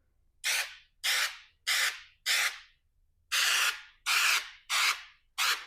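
Eight short, loud hissing bursts of texture sprayed onto a drywall patch in a steady rhythm, each about half a second long, with a brief pause partway through.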